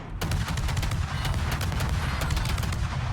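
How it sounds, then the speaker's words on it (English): Naval guns fire burst volleys in World of Warships, a dense run of rapid, heavy booms pounding steadily over a thick rumbling battle din for the whole stretch. "Here comes the burst fire gimmick again."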